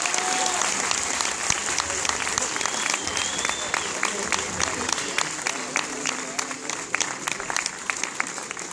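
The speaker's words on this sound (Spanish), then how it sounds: "Fuerte el aplauso, vamos, más fuerte." A convention crowd at a Star Wars fan event in Argentina claps steadily for contestants, a dense, sustained applause with scattered sharp claps and occasional cheers, while a host's voice is heard over it.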